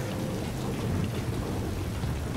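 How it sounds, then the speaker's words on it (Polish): Heavy rain pours with a low rumbling thunder strike in the Tomb Raider video game, a dense steady wash with no speech. "Piorun strzelił!"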